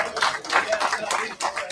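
Brief patter of hand claps from the audience at a New Jersey District 12 candidate forum, moderately loud and irregular, running steadily across the short moment.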